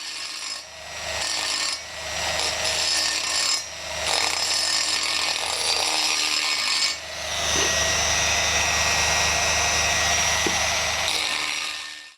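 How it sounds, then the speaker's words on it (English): A die grinder works over the shoulders of a parang blade forged from a farrier's rasp, its steady, loud, close abrasive whine running almost unbroken with a few brief dips, no talk. "I'm going to tidy that up using the die grinder while the metal is still relatively soft."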